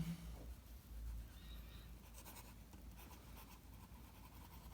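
Oversized Indian fountain pen nib scratching across paper, a quiet continuous writing sound with faint strokes, close and alone with no talk.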